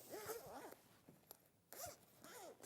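A vintage sewing case being unzipped, giving several quick, rasping zipper runs close by, with a brief pause between strokes and faint background talk.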